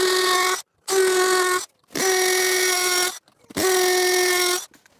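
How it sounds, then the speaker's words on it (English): A cordless hammer drill bores holes into a wall during a farmhouse barn rewiring, with three sustained whining runs of about a second each separated by short silences, loud and close. "I'm using the hammer function on my cordless drill to drill the holes."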